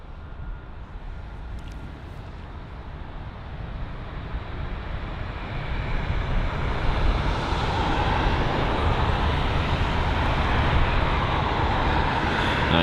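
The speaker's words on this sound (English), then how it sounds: "You've got the Virgin Atlantic 787 Dreamliner taxiing in front of us now." Virgin Atlantic Boeing 787 Dreamliner taxiing at London Heathrow Airport, a steady broadband jet engine roar that grows louder over the span and holds near and strong.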